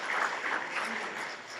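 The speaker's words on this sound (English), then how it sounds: "quick round of applause just for yourselves here too" Participants at a master planning workshop give themselves a brief round of applause, a modest spread of clapping from a room of people lasting under two seconds.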